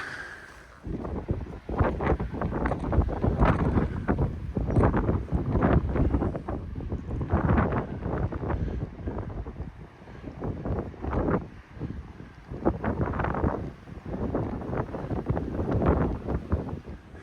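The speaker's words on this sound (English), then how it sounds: "A little bit windy up here, so I can't say much up on the lookout." Strong gusts of wind buffet the microphone in loud, roaring bursts that rise and fall irregularly at a clifftop lookout on Cape Schanck, Mornington Peninsula, with no other sounds standing out.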